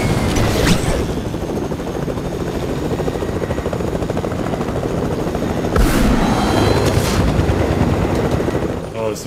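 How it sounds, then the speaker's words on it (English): A helicopter approaches in the video game Fortnite, a loud, steady rotor drone that runs throughout, with bursts of gunfire cutting in near the middle and end. "somebody coming in the chopper"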